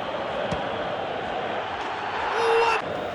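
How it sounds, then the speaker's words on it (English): A stadium crowd in the football video game PES 2020 keeps up a steady, dense roar of massed voices and chanting, with a brief swell of louder cheering near the end. "as well as a ton of crowd chants for all the teams"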